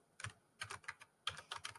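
Quick bursts of computer keyboard typing, several rapid clicky keystrokes in two short clusters, close and fairly quiet with no voices.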